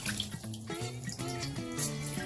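Water drains from a Zeny portable washing machine in a steady gushing flow with gurgling, bubbly tones, close by and with no talking.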